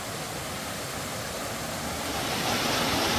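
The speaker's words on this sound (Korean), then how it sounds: "물소리가 시작되는 곳은 세련폭포였습니다." A small waterfall on a mountain trail at Chiaksan rushes steadily in a dense, even roar that swells slightly toward the end.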